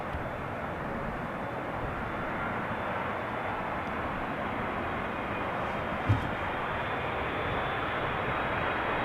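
Airliner landing on runway 27 at Amsterdam Schiphol Airport, a broad steady engine roar and rumble, continuous and moderately loud, with a brief thump partway through.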